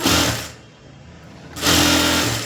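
A sewing machine stitches a blouse lining in two loud close bursts, with a softer lull between them.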